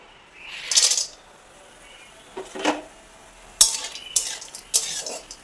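Lentil dumplings (bori) go into hot mustard oil in a wok, giving several sharp bursts of sizzling, with metal utensil clinks between the spurts and quieter stretches in between.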